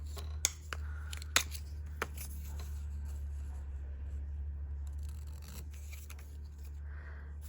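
Scissors snip paper for a junk journal, a few sharp distinct cuts near the start over a steady low background hum, then quieter handling.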